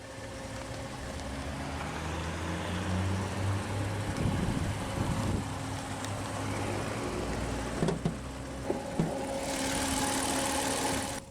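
A Chrysler 3.3-liter naturally aspirated V6 engine in a 2004 Chrysler Town & Country LX wheelchair van, idling steadily nearby, a low continuous hum with faint knocking and a few small clicks toward the end.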